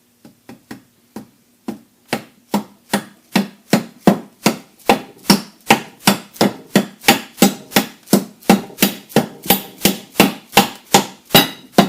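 A part being tapped into the rear of a Troy-Bilt Horse tiller, a long run of sharp, evenly spaced hammer blows that start sparse and quicken into a steady rhythm, loud and close with no talk.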